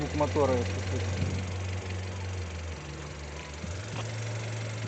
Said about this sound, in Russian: вот звук мотора, если слышно